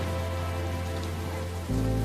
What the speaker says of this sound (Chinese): 反正天在下雨